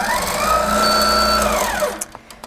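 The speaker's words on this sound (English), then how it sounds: "do 2 or 3 stitches going back along the work that you just sewed" A Simply Sixteen sewing machine runs a few back-stitches with a steady mechanical whir and rising hum, then stops, followed by a few light clicks and taps.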